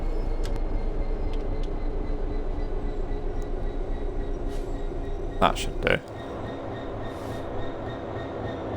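Steady low rumble and rolling wheel noise from a DB Cargo Class 66 diesel freight train in Train Sim World, constant throughout with a brief clank near the end and someone speaking briefly over it.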